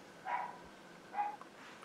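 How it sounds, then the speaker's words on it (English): A dog barks twice indoors, somewhere off in the distance and faint, with a short gap between the two barks, against a quiet room. "I'm sorry for the dog barking"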